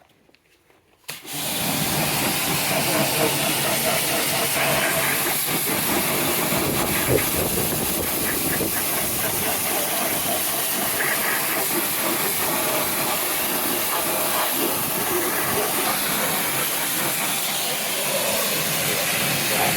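A hand pressure washer rinses wheel cleaner off a BMW 3 Series E46 320d wheel; after about a second of quiet, a loud continuous spray hiss begins and runs steadily to the end.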